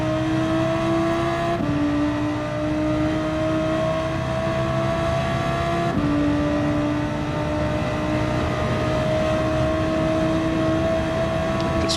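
Race car engine at Yas Marina in Gran Turismo 7, droning steadily and loudly throughout with rising pitch sweeps through the gears, two sharp upshifts breaking the tone, no talk.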